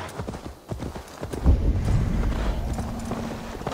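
A horse's hooves clip-clop in Assassin's Creed Valhalla, a steady walking rhythm of close, distinct thuds over a low ambient rumble, with no talk over it.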